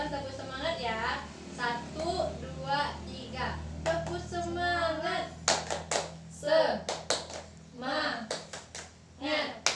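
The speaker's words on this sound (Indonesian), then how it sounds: "sekali lagi kita untuk melakukan tepuk semangat ya" A second-grade class does a rhythmic chant-and-clap cheer, with bursts of sharp, patterned clapping in quick groups alternating with children's voices and a teacher speaking, all close and fairly loud.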